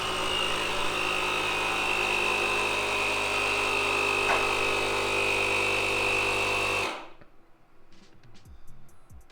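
QuickJack lift power pump running steadily with a loud, constant mechanical whine and hum for about seven seconds, then cutting off abruptly once it reaches 45 PSI, leaving quiet room noise.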